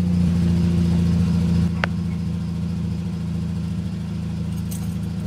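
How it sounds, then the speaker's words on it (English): A car engine idles after a remote start, a steady low hum with a faint higher whine, a brief click partway through, and the tone settling slightly lower toward the end. "Does your car actually remote start?"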